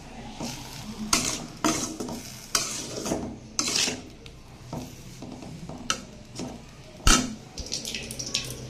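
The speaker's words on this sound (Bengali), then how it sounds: "এবার এটাকে নেড়ে চেড়ে মিশিয়ে ঢাকা দিয়ে দেব" Bottle gourd is stirred with a little water in a wok, giving repeated loud scraping and clattering strokes over a continuous wet sizzle, close and rhythmic throughout.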